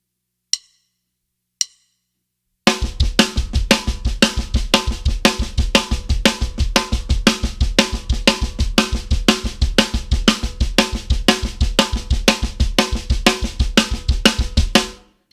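Two quick clicks, then a fast, driving drum fill groove of snare diddles with rapid, evenly spaced bass drum hits and bright cymbal and snare strokes, no talking.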